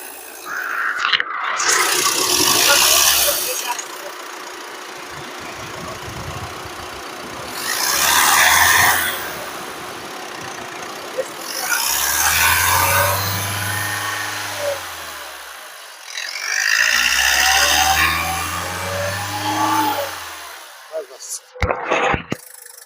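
A 2016 Ford EcoSport Titanium engine runs smoothly, rising in a few bursts of revving between quieter idling stretches, with a person talking over it.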